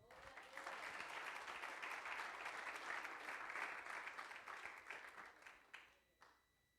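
Church congregation applauding together, a steady wash of many hands clapping at moderate distance that holds evenly for several seconds and then thins out to a few scattered claps.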